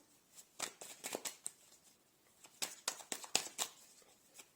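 Tarot cards are shuffled and handled close up, quick papery riffles and flicks in two bursts separated by a short pause, fairly quiet.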